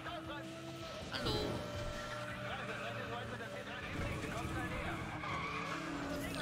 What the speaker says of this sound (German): Der Wagen rutscht aber.